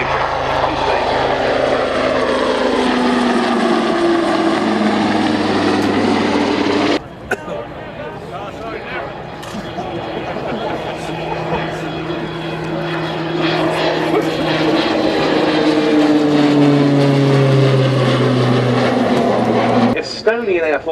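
A Tucano propeller aircraft at an airshow drones loudly overhead, its engine pitch sweeping up and down as it passes and repositions, while a commentator talks over the sound throughout.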